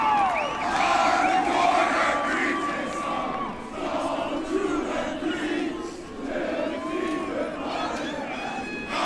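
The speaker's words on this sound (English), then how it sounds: "And Coach Caruso basking in the adulation and the applause from the St. Thomas faithful here at Oshkosh Stadium." A large football crowd of St. Thomas fans cheers and applauds at Oshkosh Stadium after a Division III semifinal win, a loud, steady roar of shouts and clapping that swells and dips slightly while a commentator speaks over it.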